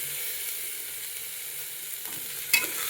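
Coarse flour for lapshi roasting in hot ghee in a pan, a steady soft sizzle with gentle stirring scrapes and one sharper clatter near the end, close and with no talking.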